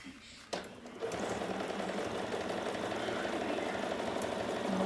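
A sewing machine stitching quilt binding along the seam line of a snowman table topper, a steady fast mechanical whir that starts after a soft knock and runs on evenly and close.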